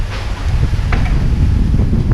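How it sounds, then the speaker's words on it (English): Loud, low wind buffeting the microphone on a beach in Koh Phi Phi, Thailand, with a constant rumbling roar and no clear talk. "It's really windy this morning."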